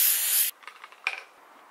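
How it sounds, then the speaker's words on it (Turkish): Cooling spray is blasted onto the back of a ceramic tile in one loud, close half-second hiss. Soft rubbing and handling noises follow, then quiet. "Seramiğimin arkasına öncelikle soğutucu spreyimi sıkıyorum"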